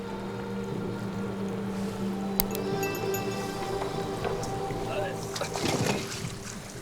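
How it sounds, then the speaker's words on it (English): An off-road vehicle grinds through a rocky mountain stream bed in steep terrain, its engine droning steadily under splashing water and knocks, with a sharp clack and a surge of rushing noise near the end. "To make ground in this steep terrain, we have to drive in the beds of mountain streams."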